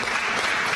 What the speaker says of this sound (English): So we should give ourselves a hand clap of praise on that.